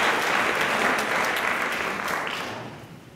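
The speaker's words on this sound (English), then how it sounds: "everyone could give her a round of applause" Dense, steady applause from a large audience fills the room, loud and continuous before gradually thinning and fading toward the end.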